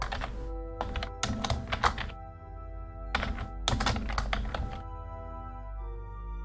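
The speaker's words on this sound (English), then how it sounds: "Oh dear, my typing is awful." Computer keyboard typed in quick clattering bursts of keystrokes, close and clear, separated by short pauses, with no talking.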